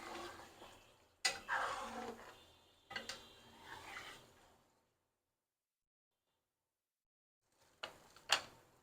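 A spoon stirs and scrapes aloo chicken in a pot after kasuri methi is added, quiet rubbing strokes in a few bursts with a silent pause between, no talking over it.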